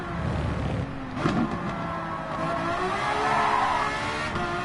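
Car tyres skid in Gran Turismo 7 as the back end steps out under power, a steady engine drone with squealing tones running through it, loud and continuous without talk.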